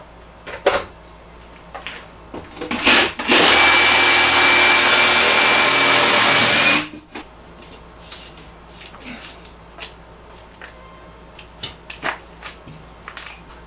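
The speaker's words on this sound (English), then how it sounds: "So we have to cut out a piece of sheetrock." A power tool cutting through sheetrock during kitchen shelf installation: a loud, steady whining roar lasting about three seconds, framed by quieter scattered knocks and handling noises before and after.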